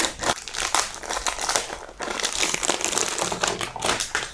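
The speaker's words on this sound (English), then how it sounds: "Let's take it out the paper first." Paper wrapping comes off a new Logitech K380 Bluetooth keyboard during unboxing, with steady close crinkling and crumpling and sharp rustling bursts throughout.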